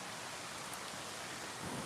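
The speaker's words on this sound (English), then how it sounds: "it's rainy today" Rain falls on a wet day during a hike in Middle Tennessee, heard as a faint, steady hiss that stays even throughout the short stretch, with no talking.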